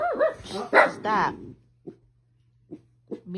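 A few short, sharp yips from a small dog, spaced out after a burst of people talking, with a low hum underneath.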